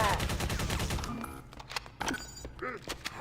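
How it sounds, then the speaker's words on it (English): Rapid automatic gunfire from a weapon being emptied in the Cursed Halo video game, a dense burst of shots that stops after about a second, followed by scattered impacts and game effects. "So what I'm going to do is empty out this gun."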